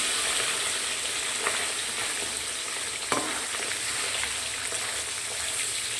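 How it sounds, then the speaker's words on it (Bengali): Katla fish pieces sizzle steadily in hot oil, a dense continuous crackle with a few brief louder spits, close and alone without any talk. "মাছগুলোকে ভেজে নেবো একটু লাল লাল করে"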